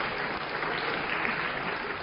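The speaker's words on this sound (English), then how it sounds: "So a round of applause for these 2." A lecture-hall audience applauds in a steady, even wash of clapping from many hands, moderately quiet and sustained throughout without talk.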